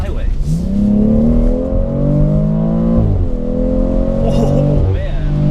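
2019 BMW X3 M40i SUV engine accelerating hard, a loud, close, rising growl climbing through gears with a brief dip at a shift, heard from inside the car.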